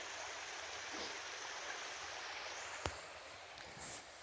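Yost Run stream flowing far below a trail on the Chuck Keiper Trail, a faint, steady distant rush of water with a brief knock of footstep or gear near the middle, no talk.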